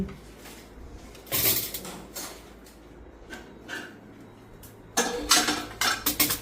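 Dishes and cutlery clatter in short bursts, with a cluster of sharp clinks near the end and quieter handling sounds between.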